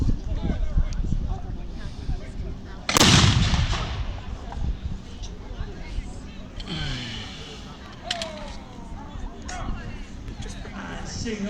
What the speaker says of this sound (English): Seeing off a bit of artillery fire